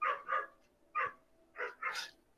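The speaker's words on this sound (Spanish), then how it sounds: "El perrito." A small dog yips five times in an uneven run of quick, sharp barks, two close together, a pause, then three more, moderately near and fairly loud.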